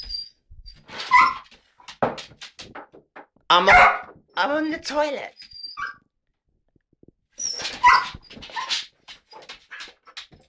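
A dog wanting to play fetch whimpers and gives a few short yips and barks close by, while someone speaks between the sounds.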